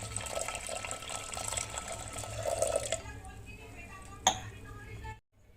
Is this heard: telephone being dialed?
no